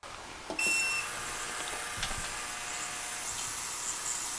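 After a short beep, a loud, steady high-pitched hiss starts and holds from a Vevor 6-litre ultrasonic cleaner running continuously nearby with hot water and dish soap.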